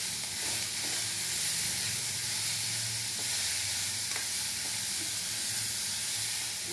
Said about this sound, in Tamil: இதையும் போட்டு நல்லா கலந்து விட்டுறலாங்க